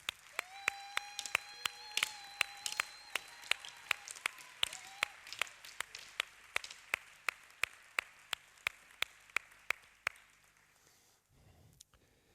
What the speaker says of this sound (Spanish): Un aplauso para nuestras 3 alcaldesas.